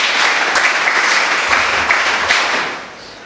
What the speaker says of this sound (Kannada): ಚಪ್ಪಾಳೆ ಬರಲಿ ಪ್ಲೀಸ್.